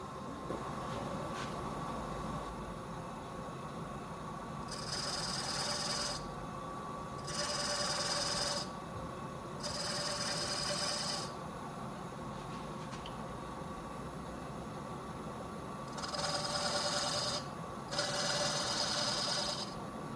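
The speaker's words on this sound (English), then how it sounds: "let's just go ahead and sand that nub off real quick" A wood lathe spins a segmented checkerboard wood bowl as its nub is sanded off, a steady motor hum broken by five hissing bursts of sanding, each lasting a second or two, without talk.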